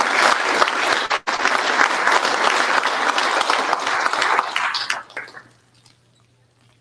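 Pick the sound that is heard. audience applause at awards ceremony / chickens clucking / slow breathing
audience applause at awards ceremony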